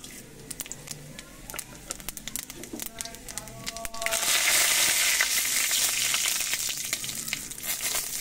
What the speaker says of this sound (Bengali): এখানে ফোড়নে দিয়ে দিচ্ছি 5 ফোড়ন, গোটা এলাচ, শুকনো লঙ্কা।